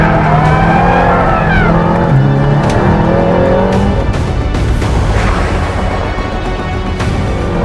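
An Aston Martin Valhalla hypercar slides on track, its tyres squealing in wavering tones over a loud, close engine drone that rises and falls as the car lets go and catches.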